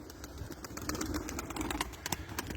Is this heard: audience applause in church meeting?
no